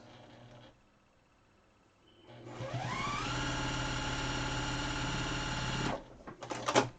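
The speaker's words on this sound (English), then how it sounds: "So we're going to sew up this edge" Sewing machine stitching along the rolled edge of a fabric face mask: after a quiet pause the motor spins up into a steady, close whirring drone for about three seconds, then stops with a few clicks and rustles.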